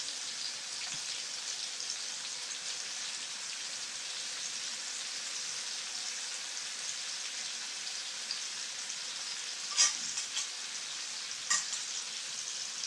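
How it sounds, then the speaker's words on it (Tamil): Fish fries in a pan with a soft, steady hiss of sizzling oil, broken near the end by a couple of sharp pops; no one speaks. "பாருங்கள் எல்லாம் எப்படி வந்து அழகாக ஃப்ரை ஆகிக்கிட்டு இருக்கு."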